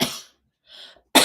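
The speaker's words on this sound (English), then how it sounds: "Once I cough, I have to see it through" One person coughs in a few short, sharp bursts separated by silence, fairly close and moderately quiet, with no talking.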